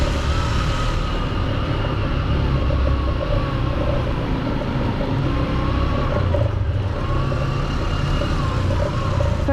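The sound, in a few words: motorbike engine revving while riding through a cave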